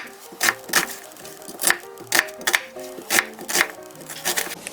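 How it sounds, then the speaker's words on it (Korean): Half of a small onion is diced into small pieces with a knife on a cutting board. The blade strikes the board in close, fairly regular knocks, with some quicker double taps and no voices. "양파도 작은 크기로 잘라주세요."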